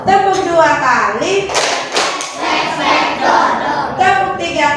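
Schoolchildren in a classroom clap together during a counting clap game, short percussive claps, roughly two sharp beats, cutting through steady talk from the teacher and students.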